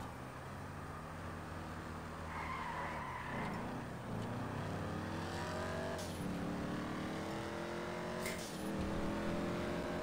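Car engine in GTA 5 driving along a highway, a steady loud drone with rising gear-shift sweeps, accelerating and revving throughout with no talk.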